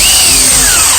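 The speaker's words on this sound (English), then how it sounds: "You got your drill here." A power drill whirs steadily at high speed during a car brake upgrade, close and loud, a continuous motor whine with a slight shift in pitch partway through.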